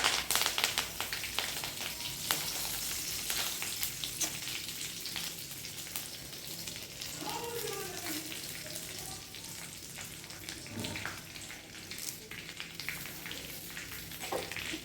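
Dried red chillies and curry leaves fry in hot oil after mustard seeds have popped, giving a soft, continuous sizzle with scattered light crackles that stays fairly faint throughout.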